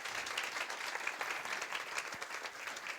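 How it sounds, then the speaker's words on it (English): An audience gives a warm round of applause for the speakers at a Q&A session, steady dense clapping from many hands sustained at an even level from start to finish. "I would like to invite you guys to join me in giving our speakers a warm round of applause"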